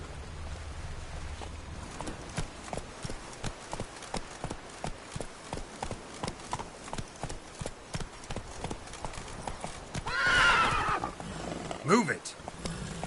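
Horse hooves clopping in a steady, quick rhythm in The Witcher video game, then a loud whinny near the end followed by a sharp snort, close and clear.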